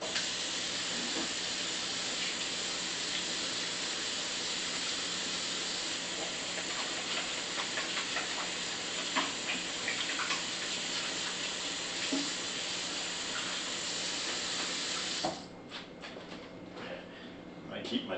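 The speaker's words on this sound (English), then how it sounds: "I got to wash my hands again." Tap water runs steadily from a faucet during handwashing, a continuous broadband hiss close to the mic that stops abruptly near the end, leaving quieter room sound and a few small clicks.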